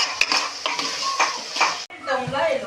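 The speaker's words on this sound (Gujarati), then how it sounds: "ચમચે હલાઈ નાખે મિક્સ થઈ જાય બધું" A metal spoon scrapes and clanks against a pot in quick repeated strokes, with a faint sizzle underneath.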